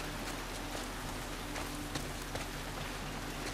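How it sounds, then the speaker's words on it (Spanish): Steady rain falls in The Last of Us Part II, a faint, even hiss of drops on surfaces with no voices over it. "El frío, lloviendo."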